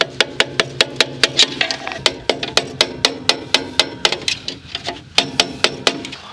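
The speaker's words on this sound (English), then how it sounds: "I'm going to go ahead and tighten up the lock ring" An electrical conduit lock ring is tightened with a steady run of sharp, regular metallic taps, loud and close, about three to four strikes per second with a brief pause before resuming.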